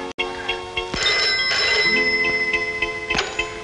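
A telephone rings on an outgoing call, a steady electronic ringing tone with faint ticking pulses repeating over several seconds, fairly loud and alone.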